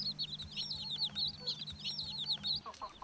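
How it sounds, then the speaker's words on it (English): A mother hen with her brood of tiny chicks roams a tribal village lane, giving a run of high, thin peeping calls that repeat steadily and fairly close, over a low steady hum, with a few lower clucks at the end. "A mother hen, along with her brood of tiny chicks, freely roaming around the lanes"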